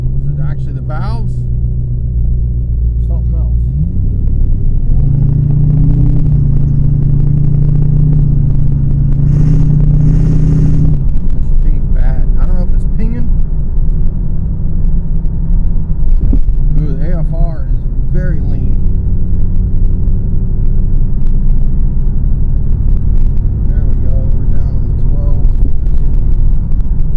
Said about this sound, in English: We'll see if we still get valve rattle or not.